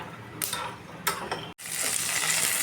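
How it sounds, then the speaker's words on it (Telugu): Peanuts frying in oil in a pan for mint chutney, a constant crackling sizzle broken by a few scraping stirs, close and fairly loud. "పల్లీలు ఫ్రై చేసుకుందాం."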